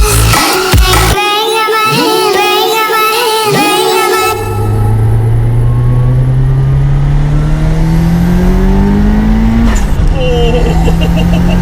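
A 500 BHP Ford Escort Cosworth accelerates hard, its engine note climbing through several quick gear changes and then a long rising pull, loud and close throughout.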